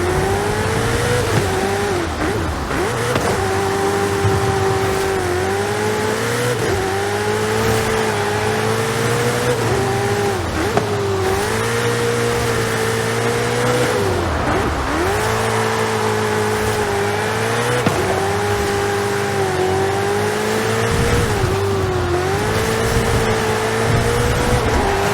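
A car in Forza Horizon 5 drives hard, its engine revving up and down in steady waves through gear changes, a loud, continuous mechanical drone with no talk over it.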